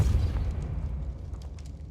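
A Confringo spell explosion in the Hogwarts Legacy video game opens with a heavy low boom that rumbles and fades over two seconds, with faint crackling debris afterward.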